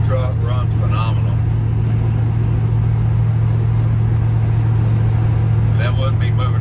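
A 1970 Chevrolet C10 pickup with an LS swap and a stock 5.3 V8 gives off a loud, steady, low engine drone throughout. Brief voices come through at the start and again near the end.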